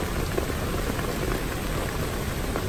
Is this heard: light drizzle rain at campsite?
yes